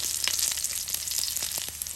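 Green chilli and curry leaves fry in hot oil on a low flame, a steady bright sizzle with crackling pops scattered throughout, close and continuous with no talking.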